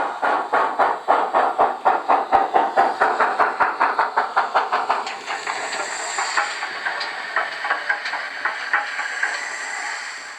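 A model steam locomotive runs with onboard sound, giving a rapid rhythmic chuff that slows and softens midway, over a steady hiss of steam and light rail clatter, with no voices.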